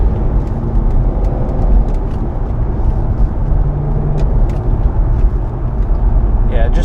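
Steady road and tire roar inside a 2007 Chevrolet Corvette Z06 while driving, a continuous loud low rumble throughout with someone talking over it.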